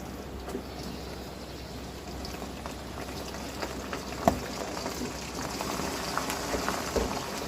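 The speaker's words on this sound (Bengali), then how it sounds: "মাংস আমি তেলের মধ্যে দুই মিনিট মতো ভেজে নিলাম" Beef sizzles and crackles steadily in hot oil in a pot, a continuous frying hiss with occasional sharper pops throughout.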